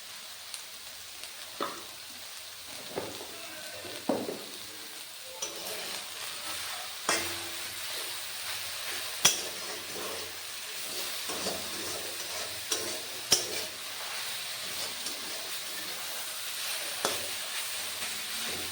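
Bottle gourd leaves and stems fry in a covered pan with a steady, close sizzle and crackle, broken by occasional stirring scrapes and brief pops, with no talking.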